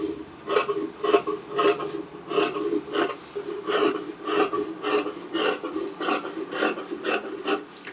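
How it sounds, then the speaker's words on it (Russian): Rhythmic rasping strokes of scissors or a blade cutting away surplus lining fabric while assembling a demi-season coat, about a dozen steady, evenly spaced cuts, close and clear with no talking. "Отрезаю лишнее."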